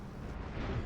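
A low, rumbling crash sounds as a military aircraft hits a tree in a War Thunder or DCS flight sim, a brief, dense burst of noise with no talking.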